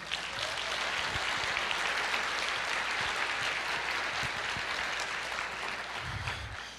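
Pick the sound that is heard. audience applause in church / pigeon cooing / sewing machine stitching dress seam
audience applause in church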